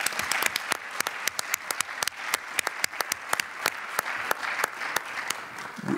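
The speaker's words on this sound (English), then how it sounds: "I think you need a special applause for that" A crowd at a conference closing session applauds steadily, dense overlapping claps filling the whole stretch at an even, moderate loudness with no speech.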